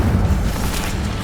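A fire spell cast in Hogwarts Legacy during a spider fight in the Forbidden Forest, a loud, deep, rumbling whoosh that fills the whole brief moment.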